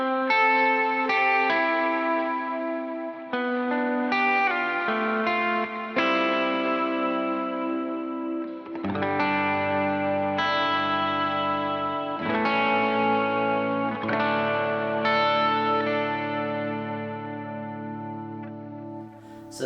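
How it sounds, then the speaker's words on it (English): Electric guitar playing sustained clean chords through two reverb pedals, drenched in reverb and shimmering effects, the notes ringing and blending into a wide wash of sound. "Here's how those two pedals sound together."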